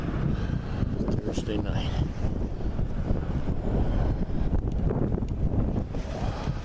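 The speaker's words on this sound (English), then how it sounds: "but the wind is up almost 10 miles per hour" Steady wind of about 10 miles per hour blowing outdoors on a January night, a continuous loud rumble buffeting the microphone, with someone talking over it.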